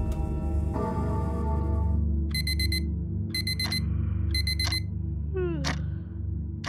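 An alarm clock rings in repeated bursts of bright electronic beeping over a low steady hum, the beeps arriving in evenly spaced groups and ending with a short descending chirp, clear and close, with no voices.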